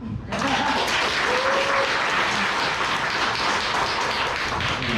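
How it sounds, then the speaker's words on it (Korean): Seminar audience applauding at a hotel regional business seminar in Busan, a dense, steady wash of many hands clapping that starts abruptly and holds loud and even throughout. "김창희 사장님께 다시 한번 큰 박수 부탁드리겠습니다"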